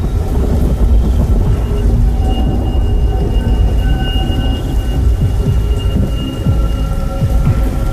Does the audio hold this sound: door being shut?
no